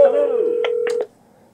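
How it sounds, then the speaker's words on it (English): Cisco IP desk phones, a 7911 and a 7971, ring together in a hunt group on an Asterisk system, giving a loud, close electronic ring with a steady tone and short chirps that cut off after about a second. "So as you can see, we've got two phones ringing"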